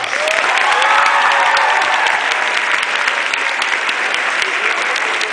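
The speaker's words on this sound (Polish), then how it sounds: "Brawa dla tych, co są pierwszy raz." Enthusiastic applause from a large crowd at a youth gathering, sustained and even throughout, with scattered cheers rising above the clapping.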